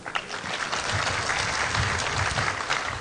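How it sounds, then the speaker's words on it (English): A seminar audience applauds the panelists with a steady, even wash of many hands clapping at moderate volume throughout. "Another round of applause for the panelists."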